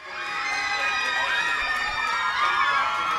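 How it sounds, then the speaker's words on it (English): Crowd of schoolgirls cheering and screaming with excitement at an airport arrivals area as a 15-year-old Olympic champion comes through customs, a sustained, high-pitched chorus of shrieks and cheers close by. "when she walked through customs, there were screams of pride"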